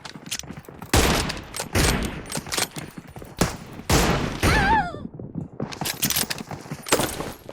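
Gunfire in PUBG Mobile in a bolt-action M24 sniper fight, loud close shots and rapid bursts cracking repeatedly with brief gaps, one ringing ricochet-like whine in the middle, with no talking over it.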